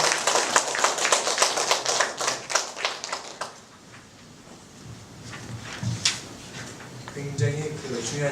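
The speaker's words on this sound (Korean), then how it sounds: "여러분 큰 박수로 맞이해 주시기 바랍니다" About a hundred attendees at an academic symposium on world scripts clap to welcome a session chair, a crisp burst of hand claps that fades after a few seconds, followed by a speaker talking into a microphone.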